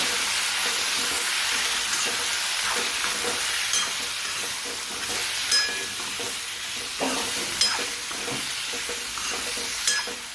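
Pav bhaji vegetables with turmeric, asafoetida and salt get stirred in a hot pan, giving a continuous sizzling hiss broken by regular scraping strokes of a spoon, close up and with no voices.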